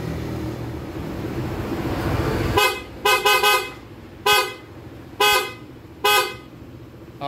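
Loud car horn blasts, five or so sharp honks with a short double toot, cutting through steady engine and road rumble, close to the listener.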